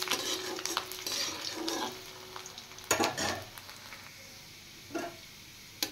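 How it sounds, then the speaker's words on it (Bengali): Chopped garlic fries lightly in oil with a soft, quiet sizzle, while a spoon scrapes and clinks against the pan in several scattered strokes. "রসুন হালকা ফ্রাই করে নিয়েছি"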